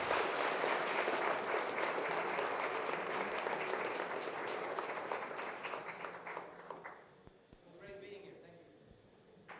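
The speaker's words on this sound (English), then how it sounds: "let's have a round of applause for our wonderful speaker" Audience applause for a speaker at an Agile Tour conference hall in Vilnius, a broad wave of clapping that swells, then tapers off to scattered claps as a voice begins speaking.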